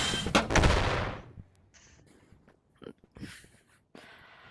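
An atomic bomb goes off in the VR game Animal Company: a loud, close booming blast opens the clip, its rumble dying away within a second, then sparse quieter game noises and small thumps follow.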